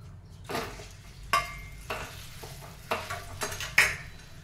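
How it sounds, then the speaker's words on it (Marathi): Mashed boiled potatoes, red chili powder and Kutchi dabeli masala being stirred into hot frying oil in a pan, with a soft sizzle under scraping spoon strokes and a few sharp utensil clinks against the pan. "तर आता या तेलामध्ये आपण टाकूयात लाल तिखट, तयार केलेला कच्ची दाबेली मसाला आणि हे कुस्करून घेतलेले बटाटे।"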